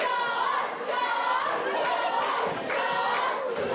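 Wrestling crowd at an MEW Northern Bash event, a dense mass of cheering and shouting voices that swells in repeated waves, fairly loud and continuous with no clear commentary on top.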